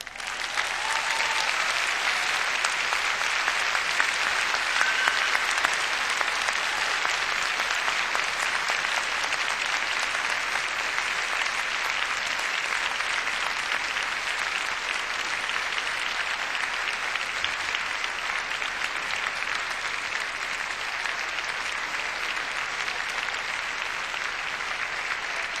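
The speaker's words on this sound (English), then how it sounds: "say a special and public thank you to them all by giving them an enthusiastic round of applause" A large audience at a Cardiff University graduation ceremony in 2013 gives a long, steady round of enthusiastic applause, a dense wash of clapping that holds at an even level throughout.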